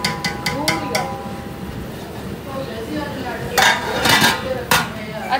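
Metal lid set onto a pot of water on a home kitchen stove while preparing potato pulao, giving a few sharp clinks and clatters of metal against metal over steady background hum and a distant voice.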